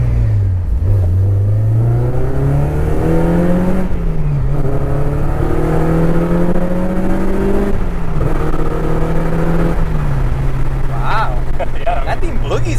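2007 Honda Civic Si accelerating hard through the gears, a loud droning engine note rising in pitch then dropping at each shift, heard from inside the car with people talking over it.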